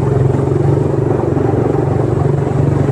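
Motorcycle engines idle and putter in heavy traffic on C5 in Metro Manila, a loud, close, continuous low rumble with a steady throb and no voices.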